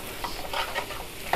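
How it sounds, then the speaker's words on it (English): A lamb Ceylon curry is stirred in a hot pan, with soft scraping and gentle sizzling through a short, quiet stretch and a small clink at the end. "Let's give it a stir."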